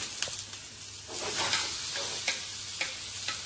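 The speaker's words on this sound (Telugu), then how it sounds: "సో మసాలాని ఫ్రై చేసుకుంటాం" Onions and tomatoes frying together as a masala for a sandwich, a gentle sizzle with a few sharp utensil taps against the pan, close and quiet.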